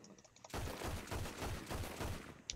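Rapid hip-fire gunshots in Red Dead Redemption 2, a dense burst of sharp reports packed closely together over about two seconds, loud and close after a brief quiet moment.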